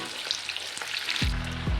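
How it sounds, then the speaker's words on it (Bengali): Olives sizzle in hot oil, cooking for a homemade olive pickle in a short, steady burst of frying hiss, with a low thud near the end. "এখন জলফাইটা একটু আমি ভেজে নেব"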